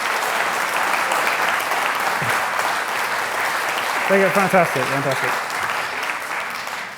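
Sustained audience applause fills a community awards ceremony in Lichfield, a steady dense wash of clapping throughout, with a brief spoken phrase rising over it midway.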